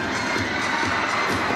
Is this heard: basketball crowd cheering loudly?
yes